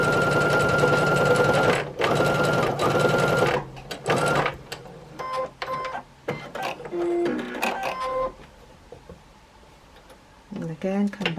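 A sewing machine stitches quilt seams in loud, rapid runs, stopping and restarting with clicks and fabric handling between bursts, on a jelly roll star burst quilt.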